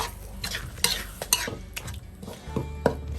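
Shrimp and holy basil stir-fried in a hot pan: sharp spatula scrapes and clanks over a continuous sizzle, loud and close, with irregular strokes every half second or so.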